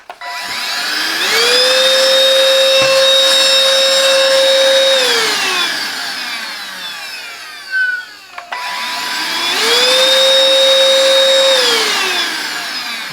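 Silvercrest SHSS 18 2-in-1 cordless vacuum cleaner with an 18-volt Li-ion battery, whining as its motor spins up to a steady high-pitched drone, winds down after about five seconds, then starts and runs again; close and loud, no talking.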